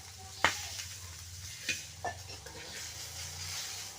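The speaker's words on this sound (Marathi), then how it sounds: "कांदे मिरच्या थोडंसं तेल टाकून परतून घेतलं" Onions and green chillies sauté in a little oil in a home kitchen pan, a steady soft sizzle broken by a few sharp scrapes and clinks of stirring.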